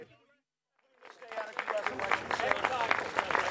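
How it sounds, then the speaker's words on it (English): Applause at the end of a press conference at Chequers with Donald Trump and Theresa May: after a short silence, a dense crowd clapping starts abruptly and keeps going, moderately loud, with faint murmuring mixed in. "This conference ends with applause."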